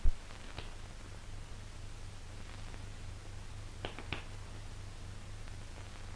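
A chimpanzee claps, giving a few sharp, faint, scattered claps with quiet pauses between them over a soft background hiss.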